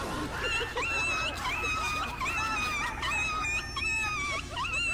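A dog whimpers and yelps in high, wavering cries, repeated whines sliding up and down over a noisy rural background, fairly close but not loud.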